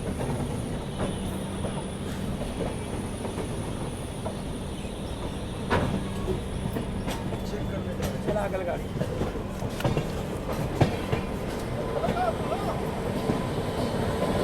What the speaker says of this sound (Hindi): यहाँ पर सामने हावड़ा मुंबई मेल वाया गया आ रही है